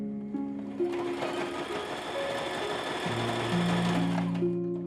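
Sewing machine stitching fabric with a zigzag stitch, a continuous close motor whir with a rapid needle chatter that holds steady for several seconds before slowing, heard alone.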